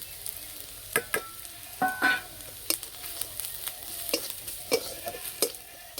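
Ground turmeric, cumin, garam masala and chili powder are stirred into onions fried until reddish, with sharp spatula scrapes and knocks in an irregular rhythm over a soft, quiet sizzle.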